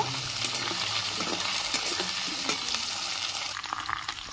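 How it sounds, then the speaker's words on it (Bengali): Washed potatoes fry in oil tempered with black cumin and dried chilli, a loud, close, continuous sizzle with soft stirring clatter running through it. "আলুটা একটু লাল করে ভেজে নেব।"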